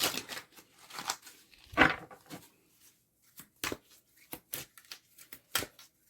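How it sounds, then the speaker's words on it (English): Tarot cards riffled and shuffled by hand in short, dry papery bursts with pauses between, close and fairly quiet. "I have to shuffle a certain way."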